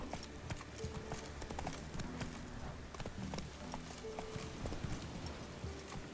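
Horse hooves clip-clop steadily in a video game, a continuous galloping rhythm at close range with a brief whinny-like cue and a faint voice under the hoofbeats.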